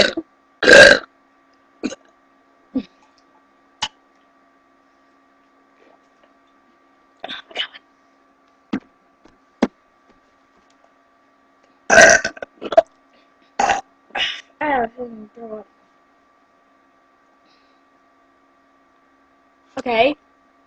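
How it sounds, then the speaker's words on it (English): A long series of burps, some loud and long and others short and faint, scattered with quiet gaps. One stretch has a rapid run of several burps close together. "Okay, I guess I get to burp for a while."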